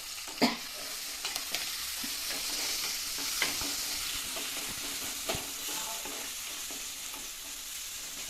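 Chopped tomato frying and being stirred in a pan of mackerel curry base with curry leaves, a steady close sizzle with scraping spoon strokes and light knocks throughout.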